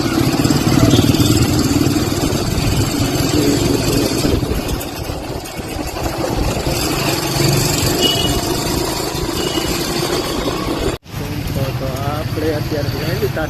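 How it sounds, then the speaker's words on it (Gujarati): A motorbike engine drones steadily while riding outdoors, a continuous mid-pitched hum with wind rush throughout, briefly cutting out near the end, with a person talking over it. "આપણું બાઇક લઈ અને જાય છે"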